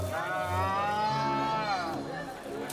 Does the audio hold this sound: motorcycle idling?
no